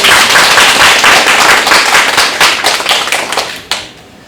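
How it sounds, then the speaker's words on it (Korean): A church congregation gives a loud, dense burst of clapping during a Sunday worship service, close and sustained for several seconds before breaking off abruptly and leaving a faint trailing patter. "미의 축복의 박수 한번 드립니다"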